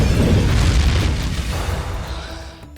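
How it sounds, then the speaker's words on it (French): A big spaceship explosion rumbles during the final battle over Xandar, a loud deep boom that rolls on and fades away over a few seconds before cutting off. "explosions de vaisseaux"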